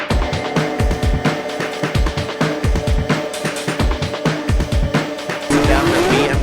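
A drift car at a Formula Drift event skids into the wall, with a loud engine revving in pulsing bursts over continuous tire squeal, ending in a brief scraping impact.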